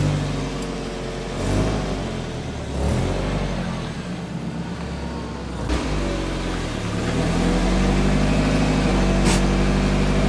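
A Z car's engine runs steadily and close by as it is pulled into a garage, with a low droning rumble that swells slightly toward the end and no talking.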